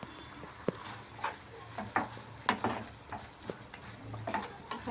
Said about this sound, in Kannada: ನೋಡಿ, ಇವಾಗ ಡ್ರೈ ಗೋಬಿ ಹಾಕಿ ಫ್ರೈ ಮಾಡ್ತಾ ಇದ್ದೀವಿ.